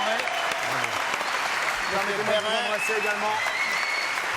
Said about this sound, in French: applaudissements s'il vous plaît pour ce geste.